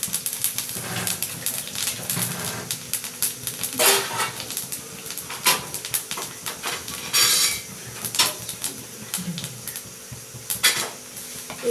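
Panch phoron spices frying in a pan for Bengali khichuri, a soft sizzle under frequent clinks and scrapes of a metal spoon against the pan as the spices are stirred, close and steady with no talking.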